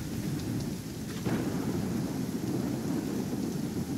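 A thunderstorm rumbles as a low roll of thunder swells beneath steady, heavy rain, loud and continuous throughout.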